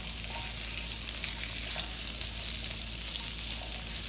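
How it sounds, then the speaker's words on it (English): Onions stir-frying in oil in a hot wok for Cantonese sweet and sour pork, a steady close sizzle and crackle with faint scraping of stirring running throughout, no talk. "so we're going to stir fry our onions here first."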